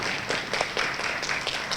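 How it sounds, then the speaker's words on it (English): Short burst of audience applause for faculty mentors at an undergraduate research symposium, a steady wash of many hands clapping in a room, fairly loud and continuous with no talk over it. "And give a round of applause to our faculty mentors."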